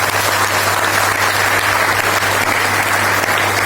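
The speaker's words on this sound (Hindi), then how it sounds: "तो आप सभी लोग अपने लिए तालियां बजा सकते हैं।" Loud, dense applause from a seminar audience in Jind, with many hands clapping steadily and evenly throughout, no voices standing out above it.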